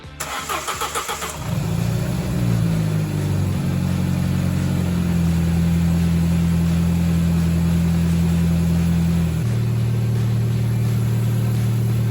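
A Ford Ka junkyard build fitted with a new turbo cranks briefly and fires, then settles into a loud, close, steady idle as it warms up, its tone shifting slightly lower near the end.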